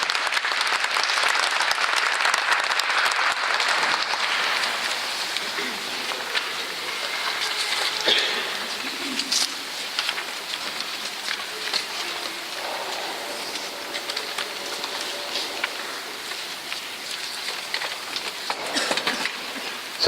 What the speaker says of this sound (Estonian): Koor, teeme neile aplaus.